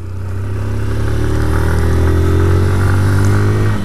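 A Honda CG 160 Fan 2022 motorcycle being ridden, its engine holding a loud, steady, close droning hum with a slight swell partway through and no pauses.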